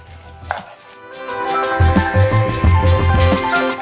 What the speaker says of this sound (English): I'm going to be chopping up 1 medium onion